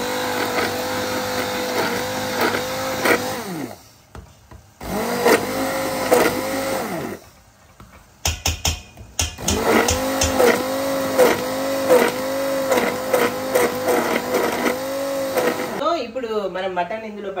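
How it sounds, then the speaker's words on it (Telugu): Hand blender blending boiled tomatoes for a Telangana-style mutton curry, heard as a loud motor whine in bursts with short pauses between, its pitch wavering as it churns. "ఇప్పుడు ఈ ఏదైతే టమాటోస్ ఉడకబెట్టామో దాన్ని హ్యాండ్ బ్లెండర్తో బ్లెండ్ చేస్తున్నా"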